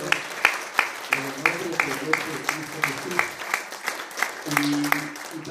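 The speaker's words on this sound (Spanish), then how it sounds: "Den un aplauso al Señor," A church congregation applauds in praise, with sharp claps falling in a steady rhythm over a warm wash of voices and sustained tones.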